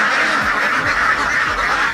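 Many ducks quack steadily on a duck farm, a dense continuous flock chorus close by with no talking.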